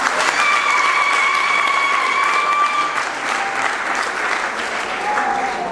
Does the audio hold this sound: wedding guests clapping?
yes